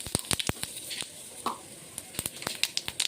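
Bay leaf and whole cumin seeds tempering in hot oil left from frying fish, giving soft sizzling with sharp intermittent crackles and pops, close and moderately quiet, with no talking.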